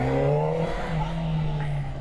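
A 2003 Honda CBR600RR inline-four revving high while ridden, a loud steady engine whine with rising pitch, heard close and continuous with some talk mixed in.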